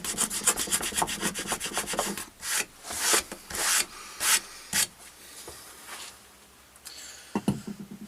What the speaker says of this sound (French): toutes les petites bosses qui se présentent devant le ciseau, si le ciseau est bien affûté, doivent normalement